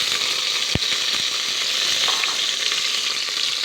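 Mussels drop into a hot pot with a sharp thud, then a bright, crackling sizzle fills the whole short stretch. It is close and loud, and no one talks.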